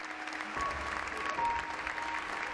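Steady applause from a crowd, dense and sustained, with a faint voice briefly audible beneath the clapping.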